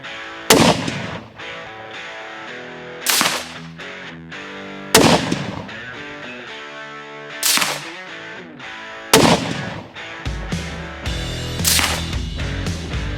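Five sharp, loud gunshots from a CZ 600 American bolt-action rifle in .223 Rem, fired at an irregular, unhurried pace, each crack followed by a ringing decay.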